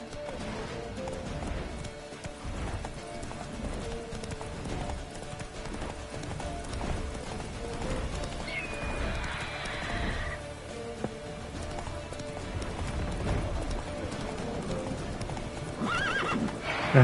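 Horse in The Witcher 3 video game gallops with steady clip-clopping hooves and neighs, set against constant game ambience and music, with a brief whinny partway through.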